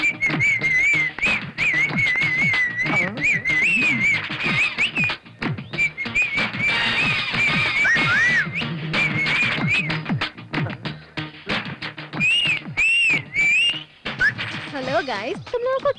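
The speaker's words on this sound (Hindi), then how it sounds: "सीटी मारते हुए ना अच्छी लग रही थी।" A person whistles a wavering, high tune in repeated phrases over about sixteen seconds, close and clear, with voices and scattered taps and knocks around it.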